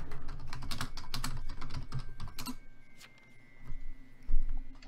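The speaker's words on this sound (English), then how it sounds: "I don't like how he just randomly started typing after you said Llami Pie." Computer keyboard typing, a rapid, dense clatter of close keystrokes for about two and a half seconds, then sparse isolated taps with a brief thump near the end.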